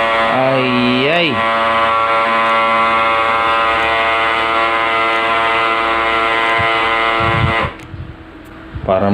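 Brother DCP-L2540DW laser printer blaring a loud, sustained horn-like tonal drone with a grinding edge, steady for several seconds before cutting off, with a voice heard briefly.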